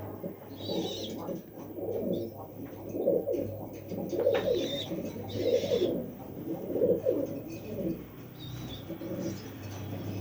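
A young imported female King pigeon coos repeatedly in soft, low, throaty rolls at a steady rhythm, close by, with faint chirps and a quiet voice in the background.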